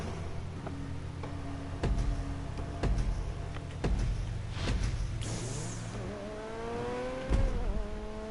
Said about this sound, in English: Has a nice little engine sound